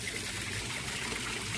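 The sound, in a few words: water pouring while changing water in concrete tilapia pond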